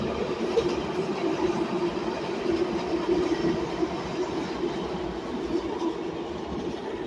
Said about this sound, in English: Thank you, train.